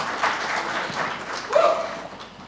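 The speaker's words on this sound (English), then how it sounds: "Big round of applause also to Realty Plus and Unitern for organizing this." Audience applause at a business launch event fills the room as a soft, continuous wash of clapping, with a brief whistle-like tone cutting through midway.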